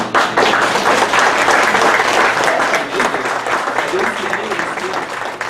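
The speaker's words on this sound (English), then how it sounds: "Let's give him another round of applause." An audience at a wellness presentation gives a loud, sustained round of applause, a dense wash of clapping with some voices underneath that slowly tapers near the end.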